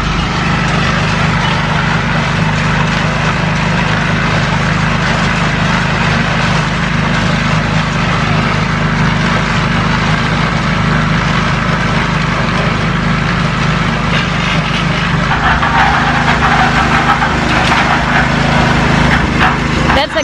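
A petrol-powered cement mixer engine runs steadily and loudly at a house-building site in the Philippines, a continuous close drone with a rumble throughout.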